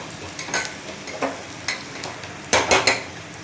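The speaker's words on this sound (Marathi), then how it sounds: "तर मी व्यवस्थित पुन्हा मिक्स करून घेते, म्हणजे मसाल्याचा कच्चापणा गेला पाहिजे." A spoon stirs Kashmiri chili masala frying in a pan, making repeated scraping strokes over a low sizzle, with the strokes growing louder and closer together toward the end.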